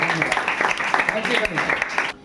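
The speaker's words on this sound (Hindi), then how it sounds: "तो अर्चना के ताली एक बार फिर हो जाए" A classroom of students applauding a student named Archana for solving a geometry problem, a dense patter of many hands clapping that cuts off abruptly at the end.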